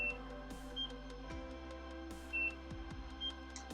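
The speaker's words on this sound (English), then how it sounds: "press this, it'll beep, and then as soon as it beeps, you move over" Short electronic beeps from a NIRA at-home skin laser sound at intervals over a steady low hum, with a few soft clicks between them.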